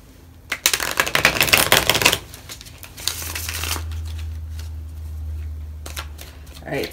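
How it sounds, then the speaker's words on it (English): Tarot cards are riffle-shuffled up close in quick crisp flurries of snapping, fluttering card noise, followed by softer handling and a low rumble, with a person speaking over part of it. "I will shuffle here on camera for you guys just so you can see"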